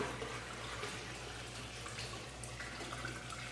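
Water being poured back into a classroom aquaculture tank during cleaning, a faint continuous splashing trickle over a low hum, with no pauses.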